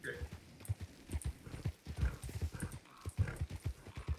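Horse hooves clip-clop steadily in a video game, a quick uneven run of close hoof strikes with a brief whinny, while players talk over it.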